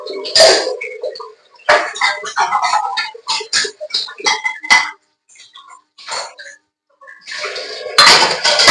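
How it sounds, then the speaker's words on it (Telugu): Dishes and pots are scrubbed and set down in a home kitchen, with irregular close clinks and clatters in bursts, some water splashing and brief pauses between. "గిన్నెలు కూడా తోముతారు"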